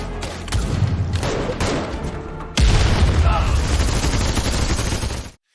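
Sustained heavy gunfire with dense booms and rapid bursts, growing louder midway through, then cutting off abruptly.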